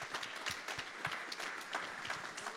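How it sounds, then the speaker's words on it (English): Audience applause following the announcement of a pitch session winner, a steady wash of many hands clapping with scattered sharper claps, sustained throughout at moderate level. "Round of applause."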